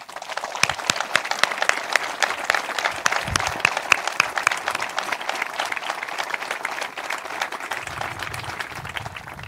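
Crowd applauding at a commemoration and tribute to the victims and combatants of the Battle of the Ebro, sustained, loud, dense clapping with sharp individual claps standing out throughout.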